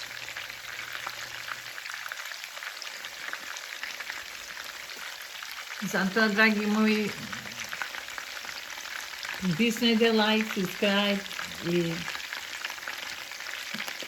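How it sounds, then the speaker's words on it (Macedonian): Pljeskavica burger patties fry in a pan with a steady crackling sizzle throughout, moderately close, while someone talks over it in two stretches. "еден мој начин, например, како ги пржам јас"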